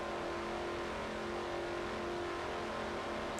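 A stock car engine in a Daytona 500 racing video game holds steady high revs near the rev limiter, a loud continuous drone with no breaks or speech.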